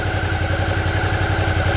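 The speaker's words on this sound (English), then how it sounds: "start the engine, engage into first gear" A Suzuki V-Strom motorcycle engine idles in first gear with the clutch pulled, giving a steady, close, even low pulsing rumble with no other sounds.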